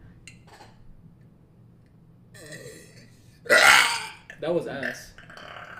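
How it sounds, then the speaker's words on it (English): A person burps loudly, one long rough burp followed by a shorter second one, close up in a quiet room, with people talking around it. "Oh, you can't burp on command."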